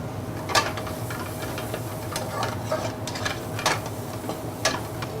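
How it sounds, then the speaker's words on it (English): Onions fry in a hot pan with a hint of pepper until translucent, giving a steady close sizzle broken by a few sharp stirring scrapes and knocks, with no talking. "I'm going to chuck in the onions till they go translucent"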